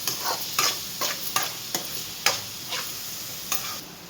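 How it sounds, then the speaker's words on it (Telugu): Curry leaves frying in a pan, a continuous sizzle broken by repeated scraping stirs that come roughly every half second, close up and without speech. "కరివేపాకు ఇది పచ్చివాసన పోయే వరకు వేయించుకోవాలి"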